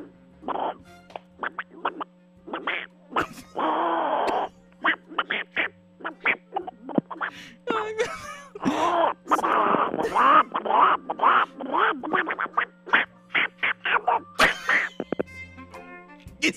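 A human voice imitates Donald Duck's raspy quacking, delivering rapid bursts of nasal, garbled duck-like chatter in short phrases and longer runs, close and loud over a faint steady hum.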